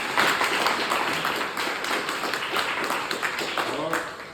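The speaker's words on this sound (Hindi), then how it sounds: "इनके लिए जोरदार ताली बोल।" A live audience claps steadily at a gathering, dense applause with scattered taps and faint voices underneath, near and continuous throughout.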